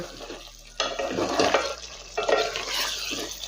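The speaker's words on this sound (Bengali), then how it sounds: "আগে থেকে সেদ্ধ করে ভেজে নেওয়া আলুর টুকরোগুলো বা আলুর পিসগুলো ভালোভাবে মিশিয়ে নেব" Pre-boiled, fried potato pieces being stirred into cooked Bengali mutton kosha, with loud, bursty scraping and mixing in two main bouts close by.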